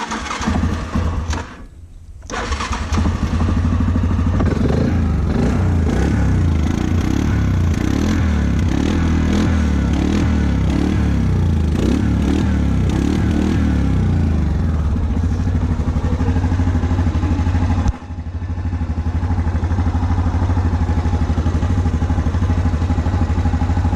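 A 2008 Yamaha Grizzly 700 FI ATV engine cranks and catches after a brief pause, then runs loud and close at a steady rumbling idle, dropping out for a moment before firing again.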